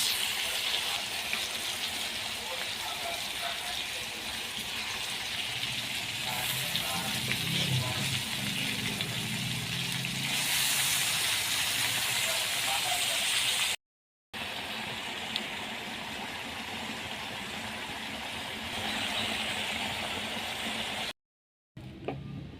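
Hilsa fish frying in oil on a bed of onions in a pan, a steady close sizzle and hiss running throughout, briefly cut by two short silent gaps.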